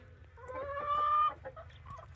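Fayoumi chickens of Egyptian genetics in a shed on an Australian farm, a steady run of close clucking and squawks from several birds over a low background rumble, with one louder drawn-out call mid-clip.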